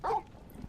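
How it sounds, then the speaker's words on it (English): A dog in the Final Fantasy XVI video game gives one short, close bark, followed by quiet. "Woof woof."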